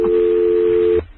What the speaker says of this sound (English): They just hung up on us.